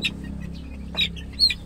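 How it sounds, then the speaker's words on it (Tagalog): Backyard chickens and young chicks make a few brief, high clucks and chirps over a low steady hum, fairly faint and close, with no talk. "Ito namang sisiw, itong pangalawang pisa natin, tingnan natin mga kaibigan."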